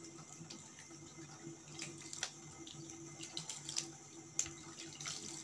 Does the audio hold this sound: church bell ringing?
no